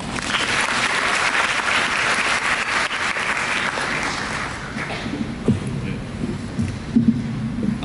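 A commencement ceremony crowd at Lone Star College in Jakarta claps loudly and steadily in welcome. The applause thins and fades toward the end, with a few scattered claps and knocks.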